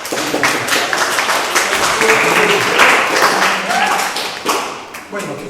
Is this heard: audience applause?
yes